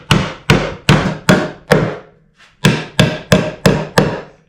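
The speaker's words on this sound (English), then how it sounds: "You gotta hit these things with a hammer again." Loud, close hammer blows drive nails into a scrap-wood birdhouse. Five rhythmic strikes are followed by a brief pause and five more, each ringing slightly against the wood.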